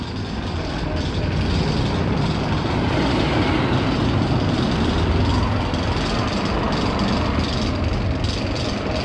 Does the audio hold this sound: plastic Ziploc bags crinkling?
no